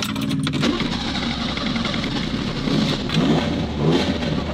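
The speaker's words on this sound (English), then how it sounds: "That's some good intake sound." Car engine cranking to life and revving, with a throaty intake roar surging and easing in close, loud bursts over a rough idle.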